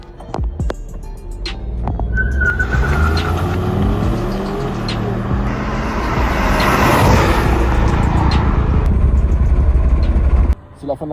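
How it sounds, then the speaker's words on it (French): A BMW X2 engine revs up against the brake and then pulls away as the brake is released, a loud, close, rising drone that swells and carries for several seconds before cutting off near the end. "je garde un pied sur le frein, j'accélère, d'un coup je lâche le frein, la voiture repart"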